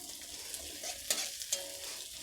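Onions tipped into a pan of carrots for finger pasta, a quiet continuous sizzle with a couple of sharp scrapes and clatters as the vegetables are stirred, close up and without talk.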